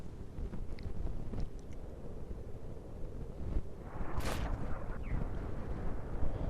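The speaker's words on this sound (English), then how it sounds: "Friendly arty shots comes in" Friendly artillery shells land in a World of Tanks match featuring the Crusader SP: a couple of muffled, distant booms rise over a steady low rumble, with one sharper impact near the end.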